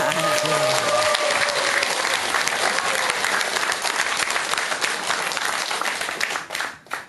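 An audience at a Buddhist monk's talk claps in a loud, sustained round of applause that tapers off near the end, with a voice briefly heard at the start.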